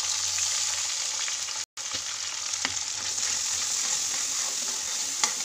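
Masala spices fry in oil in a pan with a steady, close sizzle, marked by occasional sharp crackles and a brief cut in the sound.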